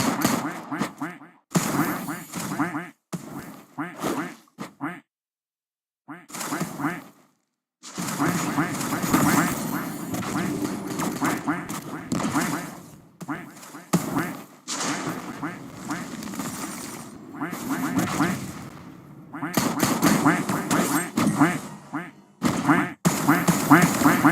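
Ducks quack in loud, choppy runs of repeated calls over more than twenty seconds, broken by short pauses, with dense overlapping stretches and a few sharp cracks mixed in.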